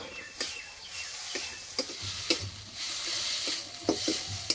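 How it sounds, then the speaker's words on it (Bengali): Fish pieces go into a spice paste of chilli and cumin powder cooked in oil, giving a soft continuous sizzle broken by several sharp scraping stirs of a spatula, close and fairly quiet. "মশলা কষানো হয়ে গেছে, এবার মাছ দিয়ে দেবো।"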